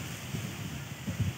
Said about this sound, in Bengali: ওলট পালট হাওয়া দিচ্ছে।